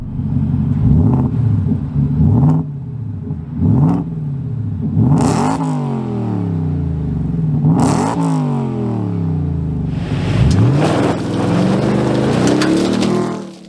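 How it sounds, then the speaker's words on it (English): A 2023 Ford F-150 Raptor R V8 engine with valved exhaust revs hard several times, each rise and fall distinct, then a long sustained climb in pitch near the end, loud and close. "this engine sounds really good. Have a listen."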